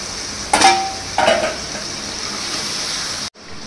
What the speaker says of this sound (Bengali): মশলাটা ভালো করে কষাই।